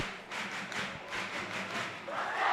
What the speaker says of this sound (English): A great crowd we have here at the Rizal Memorial Football Stadium tonight.